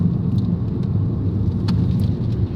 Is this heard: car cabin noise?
yes